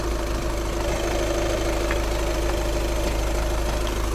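A VW Golf 6 Match with a 2.0 TDI diesel engine and DSG gearbox idles steadily, a constant low rumble with a faint rhythmic knock, close and alone without speech throughout.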